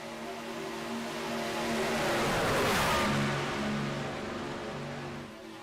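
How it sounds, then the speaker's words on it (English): A race truck engine revving steadily in iRacing at Talladega, swelling to a loud drone near the middle and easing off again, with no talk. "engine noise sounds a little off from my racing tonight"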